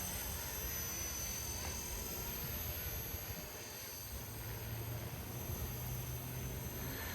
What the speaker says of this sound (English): Let's see what kind of hovering we can get here.